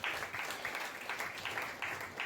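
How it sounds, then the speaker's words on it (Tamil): A church congregation claps hands in praise, rhythmic group clapping in a steady beat, moderately loud and fairly even in a reverberant room. "கைத்தட்டி ஆண்டவரை துதிப்போம்."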